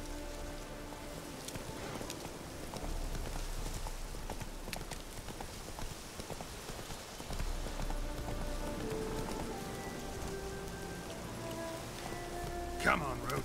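Roach, the horse in The Witcher 3: Hearts of Stone, clip-clops steadily at a gallop amid pattering rain, with an intermittent voice speaking over the hoofbeats.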